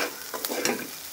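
Small mola fish fry in a pan, a brief close sizzle with a couple of quick stirring scrapes.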